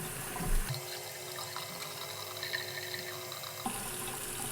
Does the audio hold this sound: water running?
yes